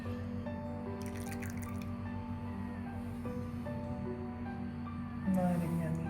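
Olive oil poured into a bowl with chili flakes, minced garlic, sugar, salt and pepper, a soft, close trickling and dripping over a steady low kitchen hum, briefly louder near the end.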